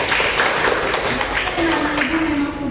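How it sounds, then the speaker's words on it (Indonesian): Students in a classroom clap together, a dense, steady patter of hands lasting a few seconds with a voice faintly audible underneath. "Oke, berikan tepuk tangan."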